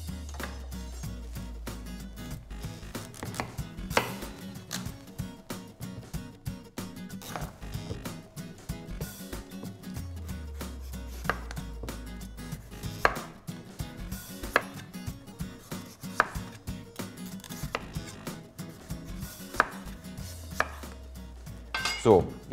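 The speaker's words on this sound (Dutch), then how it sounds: "Die pompoen gaan we eerst schillen." A hard butternut squash is peeled by hand in a kitchen, with close, repeated scraping strokes in an irregular rhythm. Occasional soft knocks against a board or dish come through between the strokes.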